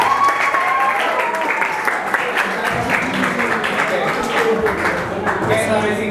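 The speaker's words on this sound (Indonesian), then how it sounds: "tepuk tangan dulu buat Ibu Sinta" Audience at an Indonesian seminar applauding a speaker, steady dense clapping filling the room at moderate loudness, with voices and crowd murmur running underneath throughout.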